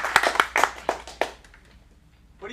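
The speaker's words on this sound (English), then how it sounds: "Let's give one more round of applause." Scattered clapping from a small audience at a teen acting showcase in Phoenix: a handful of sharp, separate claps that thin out and fade, followed by near quiet and a brief voice at the end.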